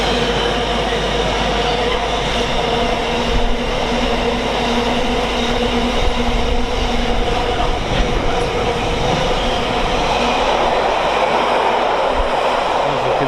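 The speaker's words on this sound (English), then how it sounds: "Freight line is 66 from Felixstowe to Crewe Basford Hall." A Class 66 freight train on the West Coast Main Line at Stafford rumbles past loudly and continuously, with wheels clattering over the rails and a steady engine drone, heard close by.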